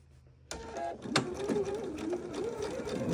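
A sewing machine set to its longest stitch length runs steadily in a straight line across a Dollar Tree towel, a continuous mechanical whir with a rhythmic clatter, starting after a brief quiet moment and staying close and clear.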